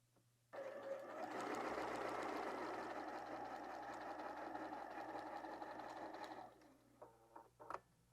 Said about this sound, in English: you're going to sew along the markings that you just made.